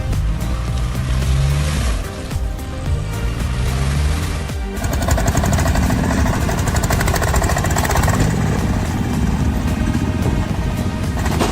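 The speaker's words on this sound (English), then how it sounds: "a powerful tractor roared, gliding on the golden dirt road" A powerful tractor engine roars steadily along a dirt road in the countryside, loud and close throughout, a continuous heavy rumble with a harsher, rougher stretch in the second half and no voices.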